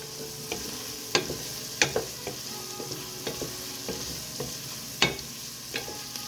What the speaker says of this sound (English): Make sure you're mixing everything so it gets an even cook.